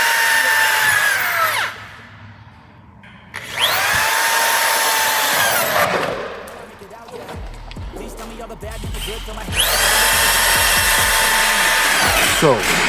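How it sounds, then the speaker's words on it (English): Power drill boring pre-marked holes in the rubber track of a Ski-Doo 900 ACE snowmobile, two loud close whining bursts that spin up and wind down, separated by quieter pauses with some clatter between. "So you drill the pre-marked holes"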